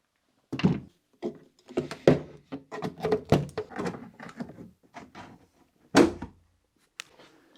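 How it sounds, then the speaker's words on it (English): Door panel being pried and pulled off a Lada Niva during rust repair, giving a run of close, irregular thunks, clicks and plastic knocks with short pauses between them and one louder pop near the end. "So I'm gonna take this panel off to access it."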